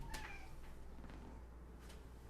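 A house cat meows once, faint and brief, against a steady low background hum, with a second soft sound near the end.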